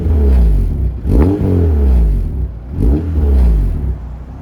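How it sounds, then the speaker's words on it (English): A modified Honda Accord sedan with racing headers and a Fujitsubo exhaust revs hard through a loud, throaty exhaust, rising and falling in two or three strong bursts, close by with no talking. "the PLM Elusive racing headers and the Fujitsubo exhaust"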